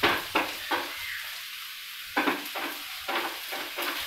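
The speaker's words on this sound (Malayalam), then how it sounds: "അതിനാണ് ഞാൻ ഇതിൽ സെപ്പറേറ്റ് ഞാൻ ഒന്ന് മൂപ്പിച്ചെടുക്കുന്നത് ഈ ഉള്ളി." Onions frying for rasam in a pan, with sizzling under repeated scraping stirs in short bursts, close and fairly loud, and no voices.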